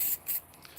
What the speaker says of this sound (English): This is a rubber spray that I use